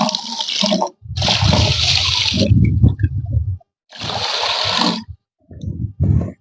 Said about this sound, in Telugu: మజ్జిగ హాఫ్ లీటర్ అండి ఇది కూడా వేసుకోవాలి